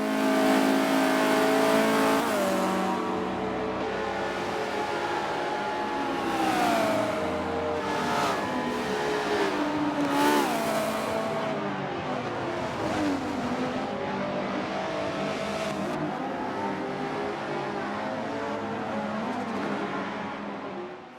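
A race car engine in the Forza racing game drones and revs continuously, with rising and falling pitch as it accelerates and shifts, some tire squeal and other cars nearby, loud and sustained without talk.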